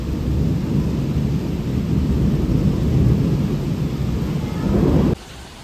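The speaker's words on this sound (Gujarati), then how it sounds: "કેવો વરસાદ આવતો." Heavy rain pours down steadily in a dense, loud roar with rumbling thunder mixed in, continuous for about five seconds before cutting off abruptly near the end.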